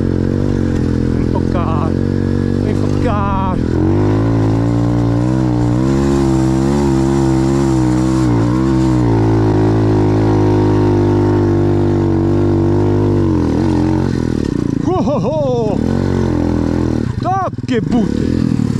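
A motocross bike engine revs hard, its pitch climbing and dropping through several throttle bursts and sustained high revs, loud and close.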